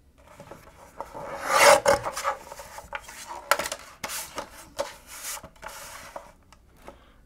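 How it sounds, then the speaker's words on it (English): Paper gift tag being trimmed during a craft stamping and die-cutting demo, giving a series of close raspy cutting and rubbing strokes, strongest early on and then continuing in short irregular bursts. "I'm just gonna trim this down a bit here."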